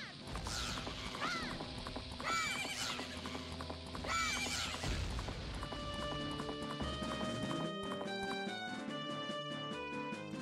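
Horse hooves clip-clopping and a neigh in The Legend of Zelda: Majora's Mask on Nintendo 64, the steady hoofbeats mixed with busy game music and chiming effects, with no talking.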